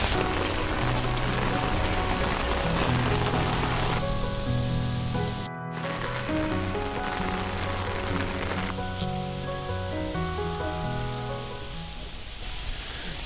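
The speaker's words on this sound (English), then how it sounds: "We can see the rain coming in" Rain patters on a small umbrella in the Scottish Borders, a close, dense drumming with steady hiss, joined partway through by faint tonal background sounds that fade and return.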